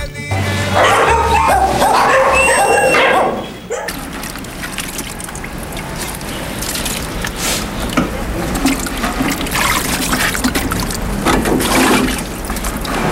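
Dogs at feeding time bark loudly and repeatedly up close, then yip and whimper over a busy background for the rest of the stretch, with faint voices.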